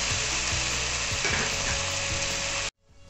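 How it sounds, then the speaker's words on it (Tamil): Onion, tomato and red chili powder frying in a pan for a prawn thokku, a dense, close, continuous sizzle with faint rhythmic stirring taps, cutting off abruptly near the end; nobody speaks. "இப்போ வெங்காயம் தக்காளி நல்லா ஃப்ரை ஆகிடுச்சு"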